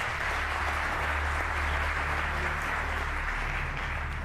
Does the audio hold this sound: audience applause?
yes